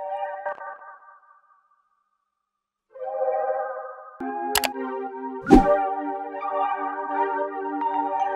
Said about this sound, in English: So let's process these next two sounds, add an echo boy.